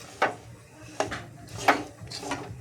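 A spoon scrapes and knocks against a pan while stirring a sesame laddu mixture with half-crushed peanuts, making three or four distinct strokes spaced under a second apart, fairly soft and close.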